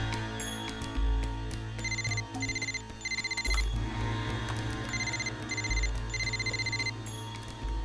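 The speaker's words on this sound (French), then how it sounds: "Ça sonne dans le vide." Telephone ringing unanswered in a French-dubbed telenovela, repeated electronic ring bursts in a rhythmic pattern over a low background hum, fairly close, with no speech.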